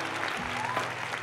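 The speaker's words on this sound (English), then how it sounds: "Let's clap it up for ourselves." A small group clapping briefly in celebration, a short burst of applause under a low hum, with a voice starting to speak near the end.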